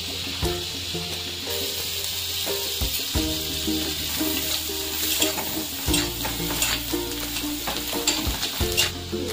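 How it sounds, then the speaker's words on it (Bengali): Chopped garlic fries in butter in a pan for chicken bread rolls, a loud, dense sizzle with constant stirring and occasional utensil scrapes against the pan. "বাটারে আমি রসুন দিয়ে দেবো।"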